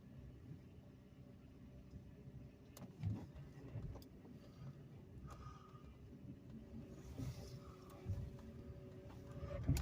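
A stick-shift car sits idling low and steady while reversing out of a parking spot, the engine hum close and quiet with a few soft clunks and shifts over nearly ten seconds.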